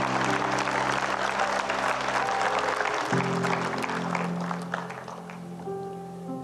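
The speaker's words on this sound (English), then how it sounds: "You can give my volunteers a clap." A church audience claps for volunteers during a sermon on the Holy Spirit. The dense applause lasts about three seconds, thins out, and then sustained keyboard tones come in.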